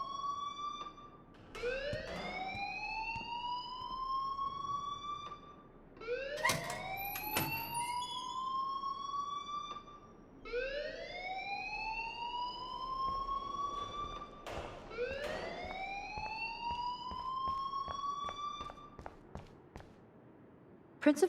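A school alarm in the game Life Is Strange sounds as a repeating rising electronic wail, four long upward sweeps spaced several seconds apart, steady and fairly loud over faint background noise, with no talk.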